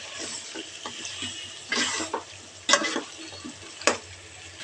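Chicken and potato pieces are stirred in hot spiced oil, giving a soft sizzle with several distinct scraping and clinking bursts from the spoon against the pan at irregular intervals.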